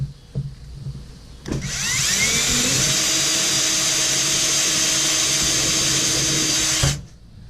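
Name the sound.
drilling a hole in a golf ball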